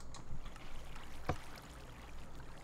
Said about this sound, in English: Yes, I put all the water in.